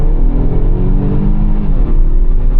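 Kia Stinger with a JB4 tune under boost, a loud, dense engine rumble heard from inside the car, steady with a faint rising whine as it pulls, no talking.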